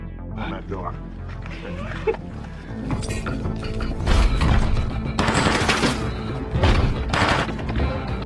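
Gunfire from blunt-bullet weapons during SWAT hostage-rescue training in a film, with bursts and thuds rising over a loud, dense soundtrack of music and effects.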